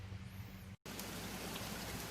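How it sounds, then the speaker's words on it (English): Steady rain falls outdoors in a broad, even hiss with a brief dropout, during work tearing down an 85 C10 truck's Vortec 350 engine; no one speaks. "Rain's slacking off for now"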